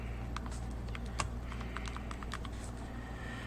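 Calculator keys get tapped in quick irregular bursts, light close clicks over a low steady background hum, with no talking.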